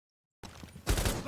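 Gunfire in a video game during recoil testing: after a moment of silence comes a brief muffled rumble, then a loud burst of rapid automatic shots.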